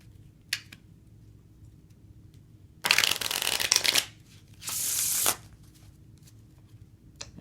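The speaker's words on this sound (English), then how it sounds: "you are going to riffle the cards into each other like so" A deck of playing cards riffle shuffled by hand: a single flick, then two close bursts of rapid fluttering card riffles, each about a second long, crisp and near against a quiet room.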